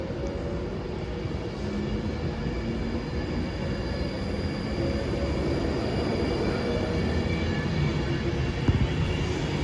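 Class 390 train 390-006 bound for London Euston at Warrington Bank Quay station, a steady rail rumble with a faint high whine that grows slightly louder over time.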